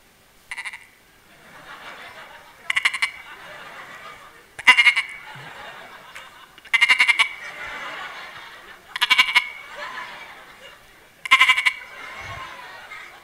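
A man imitates goat bleats during a lively religious talk at a majlis, with repeated nasal bleating calls in evenly spaced bursts over a murmuring audience.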